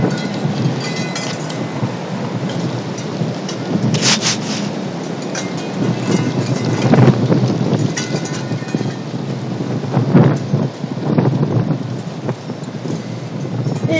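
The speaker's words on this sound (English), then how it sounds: "I think this wind, personally, it sounds weird to me" Strong wind blowing outdoors in Arkansas, a dense continuous roar with rustling and surging gusts that swell around the middle, loud and steady without talk.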